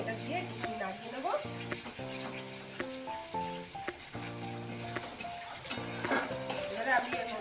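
A spoon stirs tomato ketchup into a gravy frying in a pan, giving a steady sizzle under repeated scraping and clinking strokes, close and fairly loud throughout.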